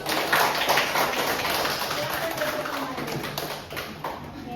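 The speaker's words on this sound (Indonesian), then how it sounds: "Aplaus." Students applauding in a lecture hall, a dense patter of many hands clapping at steady loudness throughout, fading slightly near the end, with faint voices mixed underneath.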